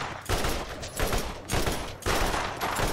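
Bursts of video game gunfire from a Borderlands weapon, four or so rapid volleys in quick succession, close and fairly loud with no voices.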